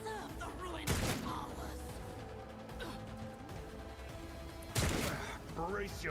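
Gunfire in the Rogue Trader video game: two loud, sharp broadband blasts a few seconds apart over ongoing game sound, with someone talking throughout.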